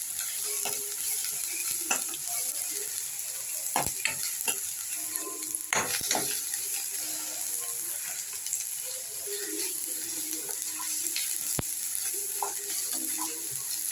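Food fries and simmers in a pan with a steady sizzle and scattered clicks and stirring scrapes, some louder taps standing out; faint background voices sit low under the cooking.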